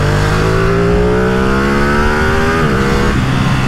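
A Ducati Streetfighter V2 motorcycle engine revs loud and close, its pitch climbing steadily and then dropping off, with no talking.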